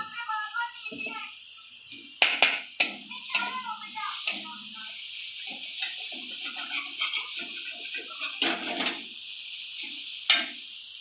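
Doi katla fish curry fries in a pan with onion, and a spoon clatters sharply against the metal several times. A soft sizzle runs underneath, and someone talks throughout.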